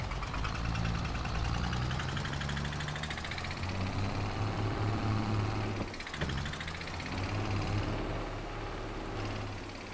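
In Farming Simulator 22, a tractor pulling an onion trailer through mud keeps up a steady mid-pitched engine rumble, with a brief dip partway through before it settles back to a constant drone.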